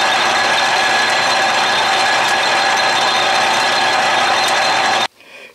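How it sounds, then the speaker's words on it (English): An Atlas lathe running a dry pass on power crossfeed, a loud continuous mechanical whir and gear rattle that stops abruptly near the end, leaving a faint hum. "I am going to use the power crossfeed, which is this lever. So here's a dry run."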